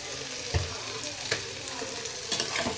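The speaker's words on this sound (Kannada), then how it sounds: "ಟೊಮೆಟೊ ಹಾಕಿ ಫ್ರೈ ಮಾಡಿ." Tomatoes frying in oil in a pan make a soft, continuous sizzle, broken by a few louder stirring scrapes close by.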